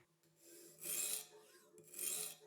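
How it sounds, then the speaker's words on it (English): A sharpening stone rasps along a knife edge in two slow, separate strokes, quiet and close, with nothing else audible. "You can move the stone along the edge,"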